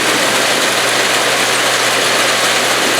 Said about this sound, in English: The K2 is powered by a Chevy 250 engine rated at